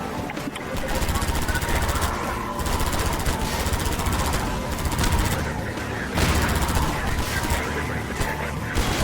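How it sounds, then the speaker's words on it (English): A projectile weapon in the Half-Life 2 video game fires continuously in dense, rapid automatic bursts, loud and unbroken for several seconds with short dips between volleys. "Because this isn't an energy weapon, right? It's definitely shooting stuff."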